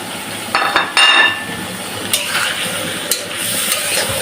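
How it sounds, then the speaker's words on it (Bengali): Green jackfruit is sautéed in a pan with chili, turmeric, coriander and cumin powders, garam masala and salt, producing a steady close sizzle broken by sharp metallic clinks and scrapes of a stirring spoon. "এখন ফাইন করে কষিয়ে নেব মশলা সহ।"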